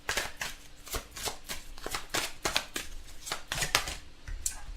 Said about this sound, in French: on va tirer quelques cartes du Petit Lenormand